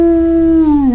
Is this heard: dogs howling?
yes